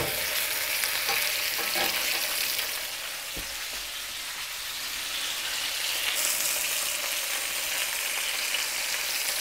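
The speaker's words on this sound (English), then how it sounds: "I'm going to brown this roast about 2 or 3 minutes" A beef roast browns in a hot skillet with a loud, steady sizzle and crackle that holds for several seconds, dipping slightly midway, with no voices over it.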